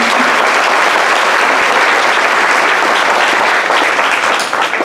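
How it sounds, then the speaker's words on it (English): Loud, close applause from an audience at a community celebration event, dense continuous clapping lasting several seconds with slight fluctuations toward the end. "I think that deserves a big round of applause."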